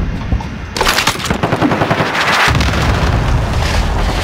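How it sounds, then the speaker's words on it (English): Rapid automatic gunfire crackles in dense bursts, followed by a heavy rumbling barrage of cluster strike explosions in the Modern Warfare video game, loud and sustained with no talking. "Allied cluster strike, inbound."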